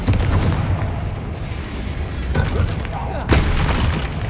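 A Confringo explosive spell in Hogwarts Legacy goes off as a pair of sharp booming blasts, with a heavy low rumble underneath and a voice speaking over the action.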